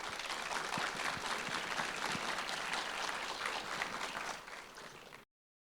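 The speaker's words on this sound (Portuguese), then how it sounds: "Palmas." Audience at a public management conference applauds as a guest is welcomed to the stage, steady dense clapping that fades slightly near the end before cutting off.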